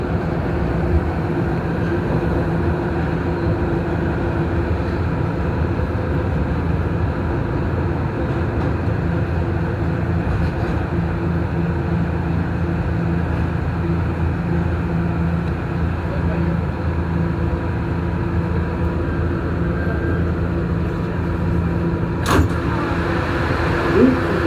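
A northbound R211A New York subway B train runs on steadily, its continuous low rumble and rolling hum unbroken. A faint voice speaks over the noise, and a short sharp squeal comes near the end.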